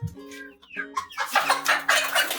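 Hens cluck close by, several making overlapping clucks and squawks that build in loudness, with no one talking.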